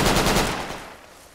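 A rapid burst of rifle fire crackles in the tactical shooter Project Reality, a loud dense volley that fades over about a second.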